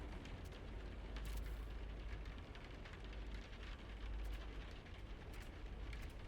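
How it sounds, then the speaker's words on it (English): Rain falling on the outside wall of a planetary base in No Man's Sky, a steady dense patter and wash that stays constant throughout, with a low rumble running underneath. "Paired with the rain of this planet hitting the side of the thing, sounds very nice."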